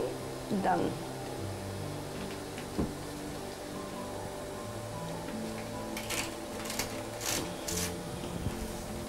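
A veterinary biochemistry analyzer runs with a low mechanical whir under someone speaking, then its printer chatters out results in several short rhythmic bursts toward the end.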